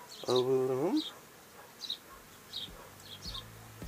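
Honeybees fan their wings to ventilate a beehive, giving a buzzing hum with short rising tones and scattered near buzzes against a quiet background.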